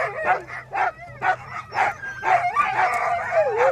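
Greenland sled dogs kept outdoors bark and yip repeatedly in short, irregular bursts, close and loud, with some whining, yelping notes mixed in.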